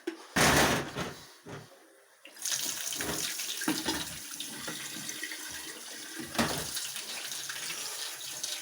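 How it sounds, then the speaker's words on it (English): Water being poured from a tap into a cooking pan in a home kitchen, a hissing splashing flow that starts and stops, with a short knock near the start. "So this, you add a little bit more water."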